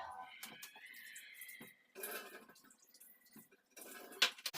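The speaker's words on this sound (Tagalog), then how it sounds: "Hugasan natin yung chicken kasi ginamay-kamay siya ni Murat." Raw chicken rinsed in a bowl of water by hand in a home kitchen, with soft splashing, dripping and light clinks of dishware, intermittent and close, under brief talk.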